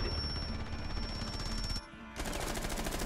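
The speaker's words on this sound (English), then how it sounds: "Oh, I shot at the fence, actually." Automatic gunfire in the video game Rainbow Six Siege, a rapid dense stream of shots that briefly stops and then resumes, fairly quiet overall.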